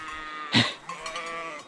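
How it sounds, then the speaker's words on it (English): A single sheep bleats once, close and fairly loud, a short wavering cry rising out of a steady background murmur. "There's a lot of sheep here"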